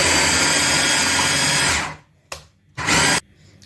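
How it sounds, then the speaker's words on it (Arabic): A food processor minces fruit for homemade ice cream, whirring loudly and steadily, then cutting out, followed by two short pulsed bursts of the motor. "انا هفرمها بقى على الكبه بتاعتي من غير اي اضافات او اي مكونات اطلاقا."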